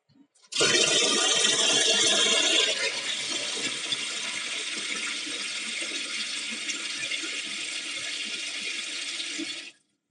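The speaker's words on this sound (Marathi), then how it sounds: "इथे पाणी कशामुळे येतं एवढं?" Water gushing strongly from a tap or outlet, starting abruptly, loud and steady for about nine seconds, then cutting off sharply, heard up close with no voices over it.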